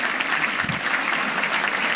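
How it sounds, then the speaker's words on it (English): Audience applause at an annual membership banquet, a steady wash of many hands clapping at once, full and sustained without pause across the room. "Y'all give her a round of applause"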